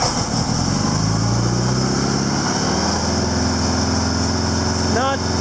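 A Honda Goldwing motorcycle sitting on its center stand idles steadily with a smooth, continuous low engine hum and drone, close and constant throughout, with a brief chirping sound near the end.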